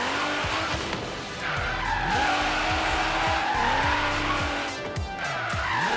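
Tires squeal in long, wavering howls as a car drifts in Forza Horizon 3, the engine revving loudly beneath with repeated rising and falling pitch sweeps between shifts.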